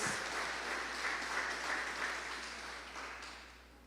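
A church congregation clapping their hands, a soft, steady patter of many hands heard from a distance that fades gradually.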